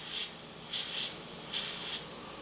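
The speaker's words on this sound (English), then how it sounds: "on the airbrush trigger. I don't want a lot of paint coming out to do this" A double action airbrush lets out a light stream of paint in five short, soft hissing bursts with brief pauses between them, held close to the surface with the trigger barely pulled back.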